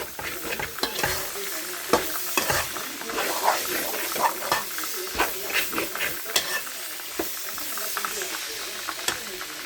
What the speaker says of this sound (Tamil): நல்லா தக்காளி பழம் வந்து நல்லா வதங்கணும்